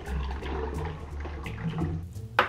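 Pineapple juice pours in a continuous gurgling stream into a glass or blender jug for a frozen Malibu Bay Breeze, close and moderately loud, with a brief clink near the end.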